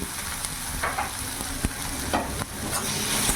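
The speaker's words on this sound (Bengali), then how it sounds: "ভালো করে মিশিয়ে নেব।" Ground turmeric, cumin, coriander and chilli powder are stirred into hot oil in a pan, giving a continuous close sizzle with soft scraping strokes of the spoon every second or so and no voices.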